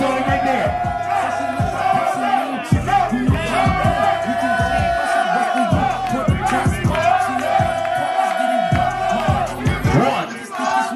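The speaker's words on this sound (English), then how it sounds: "Give him a round of applause." A crowd at a ballroom ball battle in Louisville, Kentucky, whooping and cheering loudly with rhythmic clapping under an amplified announcer's voice.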